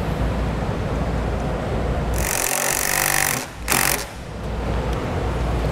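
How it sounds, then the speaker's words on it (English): A power driver sinks a self-tapping screw into the cap of a Solera RV slide-out awning on a 2019 Jayco Greyhawk motorhome, giving a loud whirring grind for about a second, a brief pause, then a short final burst. "And then we'll put our self-tapping screw in."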